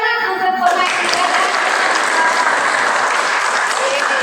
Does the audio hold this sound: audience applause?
yes